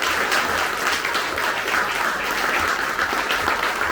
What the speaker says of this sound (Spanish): Fuerte el aplauso al Señor Jesús.